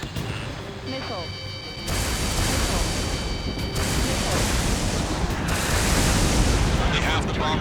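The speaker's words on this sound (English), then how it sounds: "Missile." A missile launches from a fighter jet in the combat flight game Ace Combat 7, a loud sustained roaring rush that swells up and holds steady over a steady engine drone.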